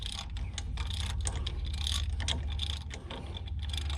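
A hand ratchet backing a damaged wheel stud out through a two-piece die, giving a continuous run of close mechanical clicking and grinding under steady low background hum, with no talk.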